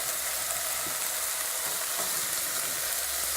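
Spices such as turmeric powder sizzle in a hot pan over medium heat for chana masala, a steady close frying hiss with faint stirring scrapes and no talk.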